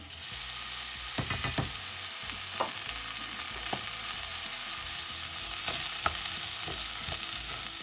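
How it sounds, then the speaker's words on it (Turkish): Rice and toasted vermicelli sauté in a pan for a chicken pilaf stuffing, giving a constant, fairly loud sizzle. A few sharp spoon scrapes and clacks against the pan sound close by, with no voices. "Şehriyemizi biraz kavurduk. Şimdi pirinçlerini ekliyorum."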